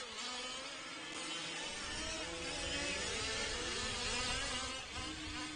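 A struggling 5th scale RC race car engine on the River Front Raceway track in Fort Dodge gives off a faint, wavering buzz that drones continuously with uneven swells.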